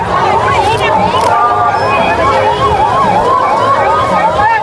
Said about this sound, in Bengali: আর এই হয়েছে অ্যাম্বুলেন্স